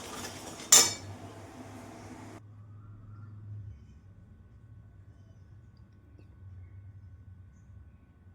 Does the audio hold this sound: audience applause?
no